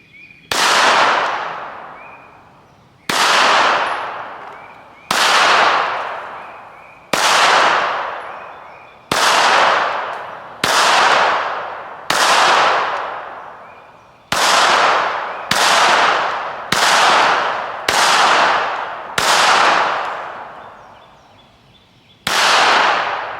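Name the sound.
gunshots from a Ruger Security .380 pistol at the range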